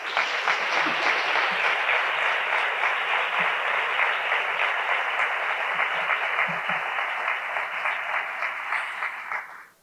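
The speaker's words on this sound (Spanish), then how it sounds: "Voy a pedir, en primer lugar, un aplauso para él." Sustained applause from an audience honoring Carlos San Millán at a ceremony naming him official chronicler, dense steady clapping lasting about ten seconds before fading out at the end.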